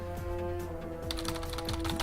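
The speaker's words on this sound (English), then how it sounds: "I can only imagine the clickety-clack of the keyboard." Rapid clickety-clack keyboard typing in Starbound, a dense run of sharp key clicks that grows busier toward the end over a steady low hum.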